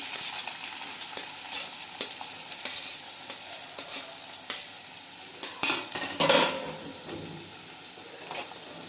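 Cut chillies and onions fry in about three tablespoons of hot oil in a pan, giving a loud steady sizzle broken by stirring clatter and a brief splash of water.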